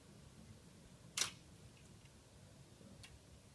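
A single sharp mechanical camera shutter click in a quiet room, followed by a faint softer tick.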